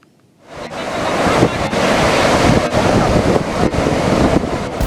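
High surf crashing at Lumpue Beach in Parepare, South Sulawesi, a loud continuous roar of breaking ocean waves with wind buffeting the microphone, rising in after a brief quiet start and staying dense throughout.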